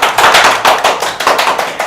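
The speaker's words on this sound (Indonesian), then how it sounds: "Boleh dikasih tepuk tangan dulu." A small studio audience claps briefly for a guest lawyer at a talk show, a short burst of quick, close, uneven hand claps.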